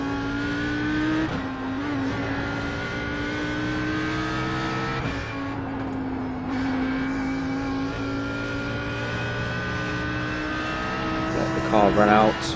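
An Audi R8 GT3 race car's engine howls steadily at Bathurst in a racing game, its pitch climbing through each gear and dropping at shifts, loud and close, while someone talks over it.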